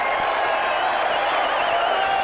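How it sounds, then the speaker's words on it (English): Rugby league crowd roaring and cheering as fans storm the field at the end of an Auckland versus Australia match, a dense, steady wall of cheers and applause from a large stadium throughout. "The crowd storm onto the field."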